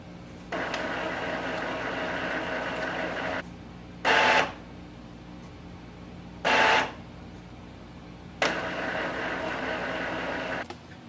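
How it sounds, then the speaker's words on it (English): An Epson ET-2400 inkjet printer running a printhead cleaning cycle, a steady mechanical whirring hum with short louder bursts and pauses between phases, heard close with no talking. "It's going to take around 3 minutes for the printhead cleaning"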